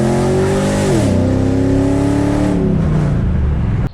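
A 1998 Pontiac Trans Am WS6 V8 blasts through a loud, close rev, climbing in pitch, holding high, then falling away before cutting off abruptly.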